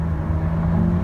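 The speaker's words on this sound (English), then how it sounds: "That's third gear popping away" Audi S5 B9 with a Stage 1 remap idling off-throttle in third gear, a steady low engine drone with a faint crackle of exhaust pops over one continuous second.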